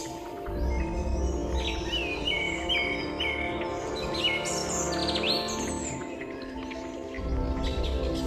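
Birds sing in a forest in southern Nepal, several overlapping chirps and whistled phrases at moderate distance over a constant low hum, with no voices.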